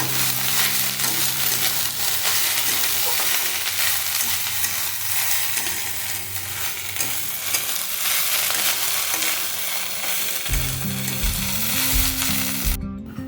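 Green chillies sautéing in a pan as they are stirred, giving a loud, steady sizzle that runs the whole time with soft scraping of the stirring, no voices over it.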